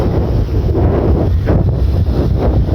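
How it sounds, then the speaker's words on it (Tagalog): Strong wind buffets the microphone with a continuous loud roar and gusty rumble, with no voices. "Kaya, lakas ng hangin."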